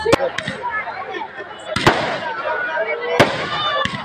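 At a school's 50th anniversary celebration, several sharp fireworks bangs burst at irregular intervals over a crowd's murmur and voices talking, with crackling in between.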